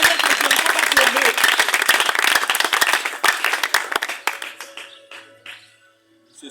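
A church congregation applauds and cheers loudly during a worship service, dense clapping and voices filling the space before thinning out and fading toward the end.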